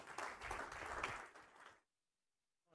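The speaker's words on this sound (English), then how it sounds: "I want to just give them a huge round of applause" Conference audience at a digital orthopaedics event gives a round of applause, a dense wash of clapping that cuts off abruptly into silence after under two seconds.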